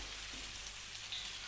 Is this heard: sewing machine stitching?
no